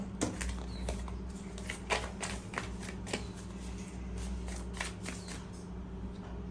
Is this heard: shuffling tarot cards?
yes